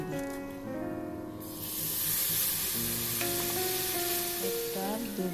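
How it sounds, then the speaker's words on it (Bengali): Semolina sizzling as it is stir-fried in ghee with cardamom, a bright close hiss that swells after the first second and holds steady, with faint stirring scrapes underneath and background music tones. "তারপর 4 টেবিল চামচ সুজি দিয়ে আবার ভালো করে নেড়েচেড়ে নেব"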